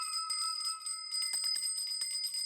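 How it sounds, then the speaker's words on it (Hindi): A small bell rung steadily and continuously, bright ringing tones with repeated clangs overlapping at a moderate distance, carrying on without pause throughout. "ये घंटी लगातार बजाते रहना"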